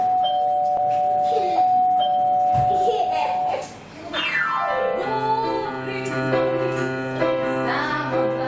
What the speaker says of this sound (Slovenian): Ja, ampak jaz vidim, da imajo zvonec. Kaj čemo pozvoniti?